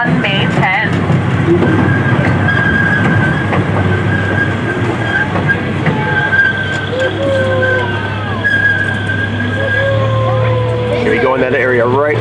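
A small zoo train rolls along its track at the Denver Zoo, a steady loud rumble with clattering wheels and a drawn-out metallic squeal, while people talk over the ride.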